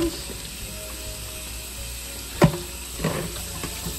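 Tap water runs in a steady hiss while crabs are rinsed under it, with a couple of splashes and knocks as they are handled close by.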